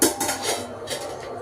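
A cooking pot for prawn and chicken biryani is set down with a short metallic clank and a brief ringing, close and moderately loud.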